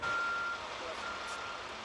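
City garbage truck backing up, with a single steady reversing beep sounding at the start over a low engine rumble and traffic noise, fairly faint and distant.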